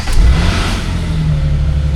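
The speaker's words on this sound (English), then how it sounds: "I'm going to go ahead and fire it up, see how she starts with a fresh battery." A classic car engine, freshly fitted with a new battery, catches and settles into a steady running idle, a loud close low rumble that holds evenly throughout with no talk.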